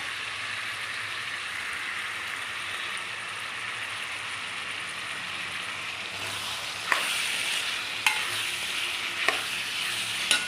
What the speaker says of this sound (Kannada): ಅದು ಎಲ್ಲ ಹಾಕ್ಕೊಂಬಿಟ್ಟು ಫ್ರೈ ಮಾಡಿಬಿಡೋಣ.